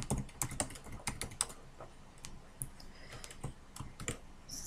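Fingers type on a computer keyboard in quick, irregular bursts of light clicks and taps, close and fairly quiet, with short pauses between runs of keystrokes.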